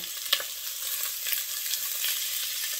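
Sausage sizzling in a hot pan for a creamy Tuscan soup, a bright crackling hiss that runs continuously with a sharp pop near the start, close and moderately loud, no talking.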